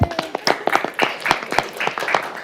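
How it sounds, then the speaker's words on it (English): A small group claps for the Citizens Academy at a city council meeting in Oldsmar, with distinct close, sharp claps in a quick uneven rhythm over a couple of seconds. "Go ahead and give them a clap."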